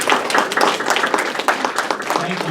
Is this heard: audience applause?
yes